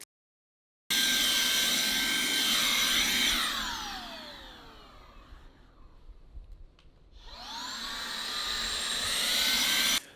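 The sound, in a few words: handheld vacuum cleaner running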